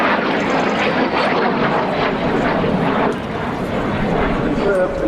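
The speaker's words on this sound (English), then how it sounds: "It's incredible to have this aircraft displaying for us the Polish Air Force LIM 5, which was delivered to that airarm in 1958." A Polish Air Force LIM 5, a licence-built MiG-17F jet, displays at a summer air show at Duxford, its loud continuous engine roar filling the air without a break.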